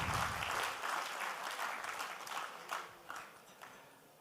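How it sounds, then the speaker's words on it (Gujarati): An audience at a family-meet speech event claps loudly, starting as a dense burst of applause and then thinning into scattered, irregular claps that fade away, with no one talking. "આપણે જોરથી 3 વખત તાળીઓ પાડશું"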